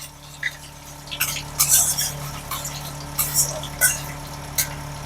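Crushed garlic and chillies are stirred in a frying pan with a utensil, producing a handful of scraping, clinking strokes at close range over a steady low background hum, with no talking.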